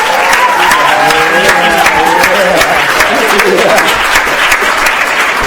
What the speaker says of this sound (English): I'd like to give them one more round of applause